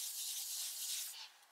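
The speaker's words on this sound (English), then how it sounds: "I'm just rubbing, my hands are a bit cold." Cold hands rubbed together make a soft, close, hissing friction sound that runs steadily for about a second and then fades out.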